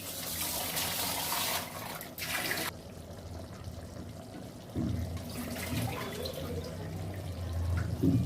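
Water pours steadily into a pot of raw rice for a vegetable meal, a faint liquid splashing and trickling that stops briefly and then resumes.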